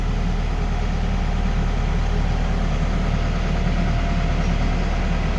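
A tractor engine idles steadily, a close, continuous low rumble with a constant mechanical throb and no voices over it, on a site where a cement-laden vehicle has broken down.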